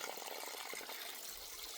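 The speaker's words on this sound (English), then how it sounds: "Now that is a great flow, huh? Look at that pipe." Water gushes from a pipe beside a mountain trail, a steady, hissing, splashing flow heard close and alone, with no voices.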